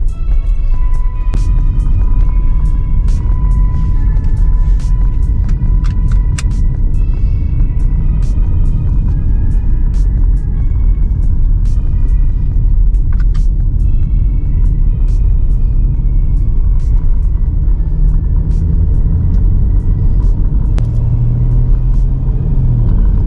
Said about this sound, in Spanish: Podemos notar que sale súper lento y a trompicones de la caja de cambios.